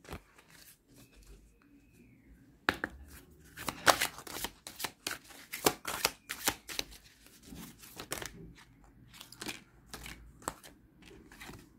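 Tarot cards being shuffled and handled, quiet rustling at first, then a run of sharp riffling bursts and flicks close by, with no voices.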